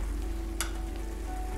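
Shakshuka cooking in a pan on an OptiGrill: a steady, close sizzle and frying crackle throughout, with one brief sharp clink near the start.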